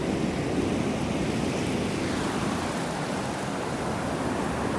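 Ocean surf washing onto a Wilmington beach, a steady dense roar of breaking waves with some wind noise, loud and continuous without voices.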